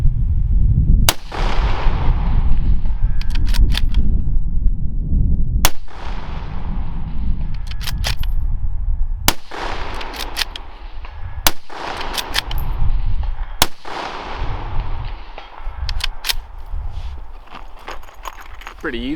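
A Savage Axis II Precision .223 bolt-action rifle fires about seven loud, sharp shots, spaced a few seconds apart, over a steady low rumble.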